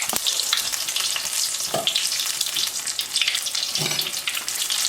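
Saltfish fritter batter frying in oil on a stove at medium-high heat, a loud, steady, dense sizzle and crackle that carries through the whole stretch, with a couple of soft clinks of a utensil.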